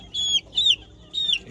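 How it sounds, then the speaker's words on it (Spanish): Three short, high chirping calls from a chick, evenly spaced over a faint low background hum. "Esos 4 pollitos que ustedes ven ahí"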